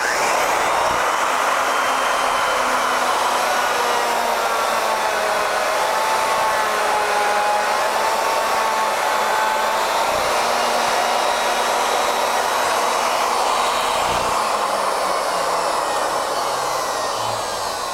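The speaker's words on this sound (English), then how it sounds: "I'm going to cut around the circumference" A router on an ornamental mill cuts around the circumference of a workpiece, giving a steady, unbroken motor whine that stays close and loud for the whole stretch.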